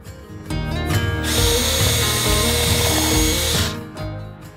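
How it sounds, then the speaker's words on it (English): A power drill pre-drills holes in wood while installing vent ducts in a farmhouse, the motor spinning up, running loud and steady for a few seconds, then winding down with a brief second burst at the end. "just gotta get my drill bit in the drill and I'll pre-drill some holes"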